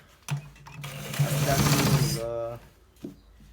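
A sewing machine stitches a designer shirt collar in one continuous run of close, loud motor whirring for about two seconds, with short handling knocks before and after and a voice heard faintly nearby.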